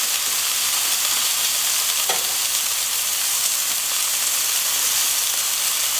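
Australian Angus flank steak lollipops topped with cheese sizzling on a hot braai grill as they are flipped with tongs, a steady loud frying hiss throughout with a brief scrape midway.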